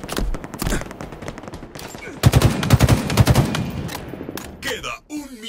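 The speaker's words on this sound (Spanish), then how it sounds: "Me están disparando." Rapid automatic gunfire in Halo Infinite during a capture-the-flag match, loud bursts of rattling shots with brief gaps, then a quieter tail, with a player's voice talking over the action.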